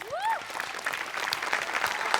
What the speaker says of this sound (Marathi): सगळ्यात आधी खूप जोरदार टाळ्या वाजल्या पाहिजेत 8 डिपार्टमेंटसाठी